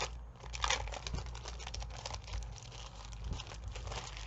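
Sheets of paper being handled and crinkled up close, a continuous rustling, crackling texture with a few sharper crunches and no talking.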